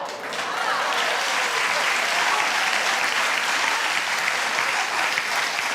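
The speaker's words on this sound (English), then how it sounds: "I don't even know why you're clapping" A studio audience on a TV talk show breaks into loud, dense, sustained applause, a continuous wash of many hands that holds steady throughout with no talk over it.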